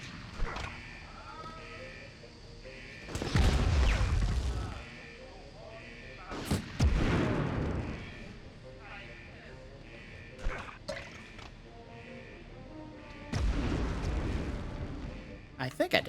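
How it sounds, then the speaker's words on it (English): Grenade blasts in the video game Medal of Honor, several deep booming explosions spaced through the clip amid game ambience, with a player talking over the action. "Throw the grenade!"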